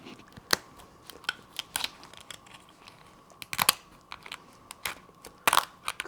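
Snipping of scissors through a lobster shell while preparing surf and turf: a string of sharp, crunchy cuts at uneven intervals, close up and fairly quiet, with no talking.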